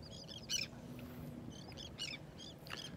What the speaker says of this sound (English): The seagulls are starting to show up now.